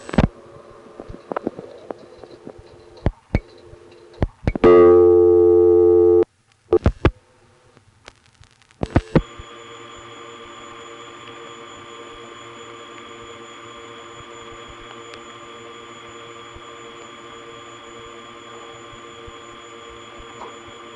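A 1976 step-by-step exchange call from a Harrisonburg, Virginia payphone across a trunk line: clicks and switching bursts, a brief loud tone, then a steady loud hiss and hum of trunk noise that continues alone.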